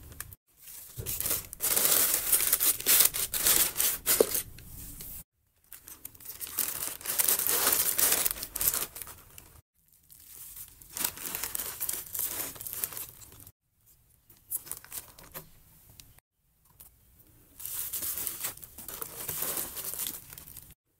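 Gift paper crumpling, crinkling and tearing as a present is wrapped, with close rustling bursts in several spaced rounds separated by short silences.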